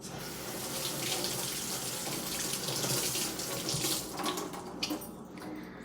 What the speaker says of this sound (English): I completely rinsed out my brushes.